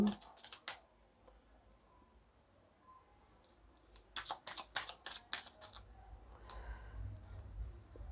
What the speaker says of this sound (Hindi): कुछ कार्ड्स और लेंगे हम